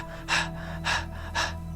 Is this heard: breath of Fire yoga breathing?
yes